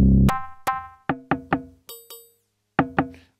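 Percussive PC Blocks factory preset on an Elektron Model:Cycles groovebox, played as a run of about nine sharp, bright, woody block hits in an uneven rhythm with quick decays. Some hits are pitched higher, with a pause before a final pair.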